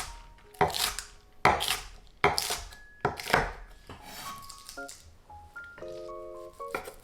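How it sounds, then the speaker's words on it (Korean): A knife thinly slices the white part of green onions on a board in about five crisp, close cuts, followed by a run of short electronic beeps. "파의 흰 부분은 파기름을 위해서 얇게 잘라줄게요."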